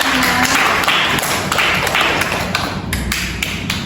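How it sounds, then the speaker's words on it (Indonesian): Applause in a classroom during a microteaching lesson: dense, loud, steady clapping from a group of students that continues without a break for the whole stretch. "Silakan diberi aplaus duluan."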